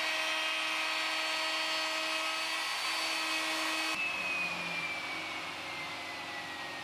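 A router with a large bearing-guided pattern bit trims wood along a jig, giving a loud, high, steady whine that shifts pitch partway through and then drops slightly as the cut continues.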